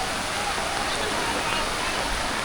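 Athirappilly waterfall in Kerala, swollen after rain, roars as a steady, loud broadband rush of falling water, continuous and close with no pauses.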